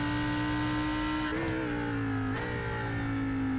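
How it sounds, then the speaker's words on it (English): A Super Trofeo race car engine in a sim racing game at Watkins Glen, a loud, steady high-revving drone with brief dips between gear changes. "Let's have a listen to the engine."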